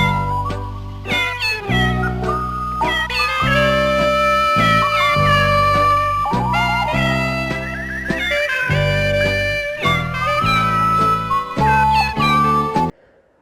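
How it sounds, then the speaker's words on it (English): A cartoonish cat meows a melody over a loud musical backing in the 1977 film House, each meow a sliding tuned note in a playful, rhythmic theme. "the cat starts meowing the theme to this movie"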